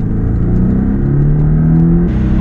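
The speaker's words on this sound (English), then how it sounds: "when you're idling, like slowly driving now, you know, little light throttle, it almost sounds like a diesel" A 2017 Porsche 718 Boxster S engine at light throttle while driving slowly, with a steady, deep rumbling drone that has a gruff, diesel-like tone. It rises slightly in pitch near the end.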